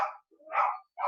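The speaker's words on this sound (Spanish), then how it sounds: "Perros del infierno." Dogs bark in short bursts at a nearby home, three loud yelps separated by brief gaps, with no one speaking over them.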